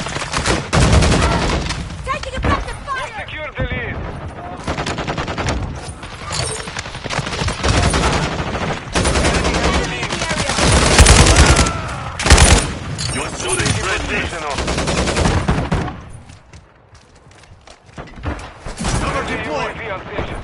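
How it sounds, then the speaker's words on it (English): Gunfire in a video game, with repeated bursts of automatic and single shots, loud and close, in irregular clusters across the clip, mixed with game voice callouts and a brief lull near the end. "Taking effective fire!"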